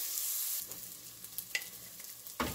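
Onion and garlic sauté in a pan, a faint steady sizzle with a few soft scrapes, louder bursts at the start and end.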